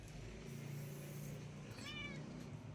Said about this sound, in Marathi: चला आता मग म्याऊचे पिल्लं बघते, तुम्हाला पण दाखवते काय करता आहेत ते.